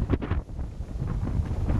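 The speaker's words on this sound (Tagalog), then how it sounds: "Grabe, lakas ng hangin." Strong gusty wind on Mount Maarat buffeting the microphone with a low, uneven roar and rumble, with no talk.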